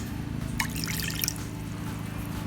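Water is poured into a bowl of annatto seeds, a short splashing trickle and a few drips heard up close over a steady low background hum, with no talking.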